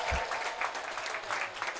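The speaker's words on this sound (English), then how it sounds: "A huge thanks, huge round of applause for John Ellis and his parents and Steve Cook" Applause from the audience at a racquetball championship finals, a moderate, slightly uneven patter of clapping in a large hall, somewhat distant and steady for the whole stretch.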